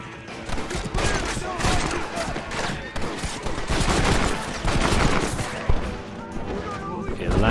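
Dense gunfire in Red Dead Redemption, a rapid continuous barrage of loud overlapping shots and booms with a few sharper cracks standing out.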